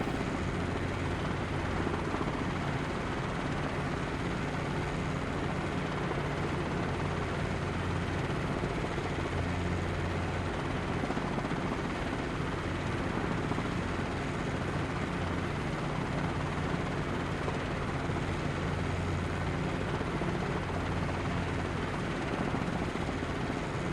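Steady, unbroken rotor and turbine drone of a CH-47 Chinook helicopter in a flight simulator, constant and loud across the whole stretch with no talk.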